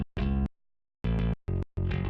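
Sampled bass part lifted from a record, heard as several distorted, buzzy notes in short bursts separated by silent gaps, loud and alone.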